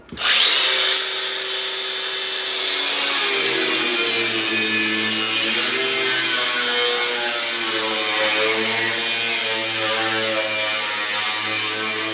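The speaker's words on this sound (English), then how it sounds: "I can just pick up my grinder right away" An angle grinder working on a 60-gallon metal air tank, spinning up sharply and then holding a loud, continuous high-pitched whine with a steady grinding tone for several seconds.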